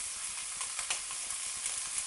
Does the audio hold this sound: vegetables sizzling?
yes